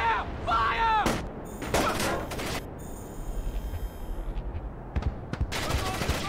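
Gunfire in Splinter Cell Chaos Theory: heavy bursts of shots alternate with a stretch of rapid, lighter automatic rattling, while voices shout over the exchange.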